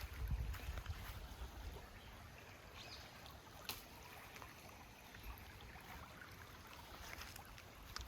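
A small babbling brook runs through a roughly four-acre outdoor property with fire-red coral flowers, giving a continuous mid-level watery rush with light wind noise and occasional brief bumps, no talk.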